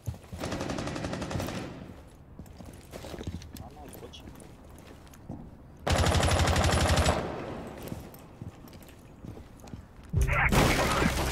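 Rainbow Six Siege gunfire comes in loud bursts of rapid shots, in three main clusters with quieter game sounds between them.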